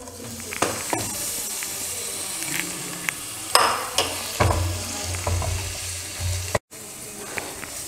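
Finely chopped bitter gourd frying in a pan, a close sizzle with a spatula scraping and knocking against the metal at irregular moments, plus a brief dropout near the end; no one speaks.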